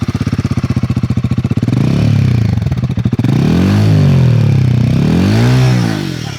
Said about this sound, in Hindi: एग्जॉस्ट नोट थोड़ा सुन लेते हैं हम लोग